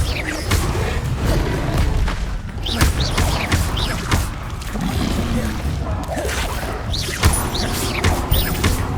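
Repeated Incendio fire spell casts in Hogwarts Legacy, a series of sharp whooshing bursts and crackling impacts over a continuous rumbling, busy game mix.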